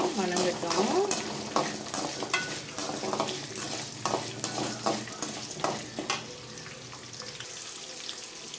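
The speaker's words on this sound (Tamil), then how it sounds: "சின்ன வெங்காயம் நல்லா வணங்கட்டும்." Small onions sautéing in an oily pan for a Tamil vallarai keerai thuvaiyal, with a steady sizzle under repeated clinks and scrapes of a stirring spoon close by, fading toward the end.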